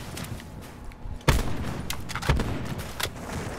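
Sniper rifle shots in a video game: sharp gunshot reports, a loud crack followed by a second one a second later and a fainter shot after, over game ambience.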